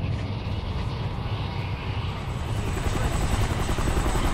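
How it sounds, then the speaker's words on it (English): A helicopter in the shooter video game Kane & Lynch 2 thumps loudly and steadily overhead, its rotor chop constant and close throughout. "Chopper!"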